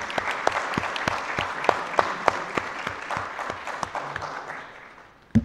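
Modest round of applause in a municipal council meeting room, a small group clapping steadily with sharp individual claps, then fading out near the end.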